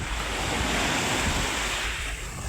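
Sea waves roll onto Kozhikode beach in a loud, continuous wash of surf, with wind buffeting the microphone throughout.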